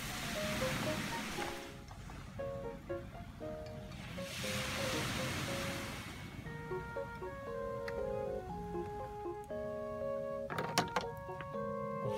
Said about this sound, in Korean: 파도 소리 들어볼게요.